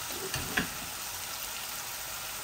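Eggs with added spices frying gently in a pan, a soft, steady sizzle with a few faint clinks and stirs, no talking.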